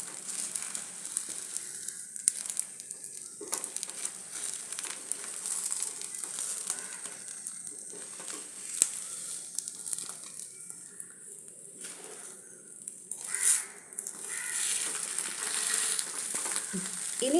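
A carrot dish frying in a pan, a soft, steady sizzle with faint crackles and occasional scraping stirs, quiet and close with no talk.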